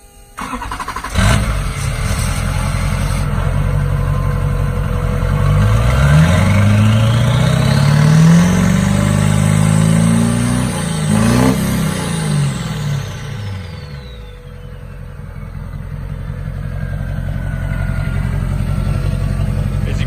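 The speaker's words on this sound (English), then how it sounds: "going to go and give you guys a sound clip driving down the road with this turbo" A Duramax LB7 diesel truck engine with a 64 mm turbo starts and revs loudly up close, the rising turbo whistle sweeping up and fading as the engine settles back into a steady rumble.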